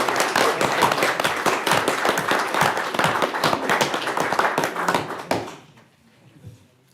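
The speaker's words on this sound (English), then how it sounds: "Can we clap?" Council members clapping at a council meeting, a burst of scattered hand claps lasting about five seconds before stopping abruptly, followed by near quiet.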